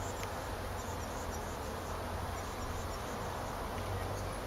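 A honeybee swarm hums in a steady, dense drone that holds at an even level throughout, with no pauses and no voices.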